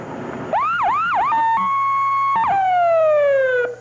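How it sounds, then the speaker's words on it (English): A loud electronic siren starts with three quick rising whoops, then holds a steady wail before sliding slowly down in pitch and cutting off. "Every time you blow the siren, the people sort of run in terror."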